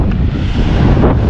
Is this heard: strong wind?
yes